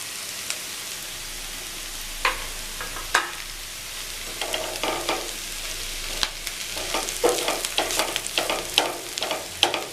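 Leftover chapathi upma in a pan, sizzling softly while a spatula scrapes and stirs it in irregular bursts, close and alone with no voices.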